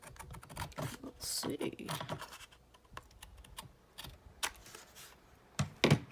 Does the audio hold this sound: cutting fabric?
yes